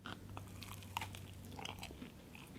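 Keto seed bread spread with butter, bitten and chewed close to the mic with soft crunchy crackles and a few sharper bites, quiet and without talk.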